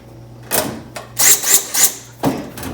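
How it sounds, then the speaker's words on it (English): A cordless drill on slow speed drives screws in several short bursts, each a brief buzzing run with pauses between, close and fairly loud. "I'm on slow speed on my drill."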